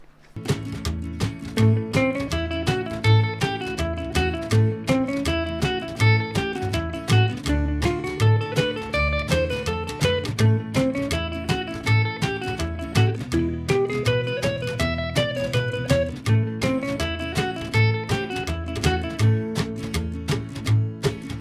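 Twangy electric guitar licks in A over a steady, bouncy backing track with a driving beat, phrases repeating in a lively rockabilly style.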